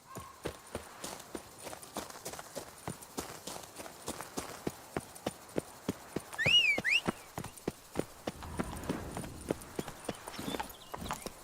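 Rapid, steady hoofbeats of a galloping horse in The Witcher 3, a near and crisp clip-clop that drives on for the whole stretch, with a brief high chirping call partway through.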